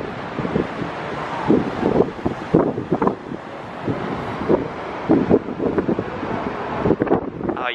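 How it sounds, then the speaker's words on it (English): Strong wind buffets a handheld microphone on Tower Bridge in London in a cold winter setting, producing loud, gusty bursts of rumbling noise that surge and fade repeatedly throughout. "Sorry about the wind."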